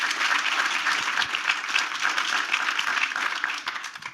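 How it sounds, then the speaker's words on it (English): An audience applauds during a talk on America's second founding, with a crowd's dense, continuous clapping at a steady level for about four seconds. "first, some applause,"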